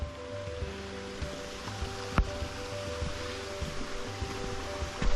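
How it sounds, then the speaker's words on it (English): Water rushing steadily over Glory Hole Falls along a trail, a broad continuous roar of pouring water with a sharp knock partway through, fairly loud and close with no talking. "you can see the top of the falls as the water is going in"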